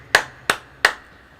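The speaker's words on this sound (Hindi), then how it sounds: "ताली बजाकर।" Hands clap three times at a Christian sermon, sharp, evenly spaced and close, with quiet in between.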